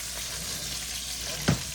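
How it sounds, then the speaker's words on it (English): Continuous gentle sizzling of chicken frying in a pan, with a brief clunk near the end. "while that chicken is frying"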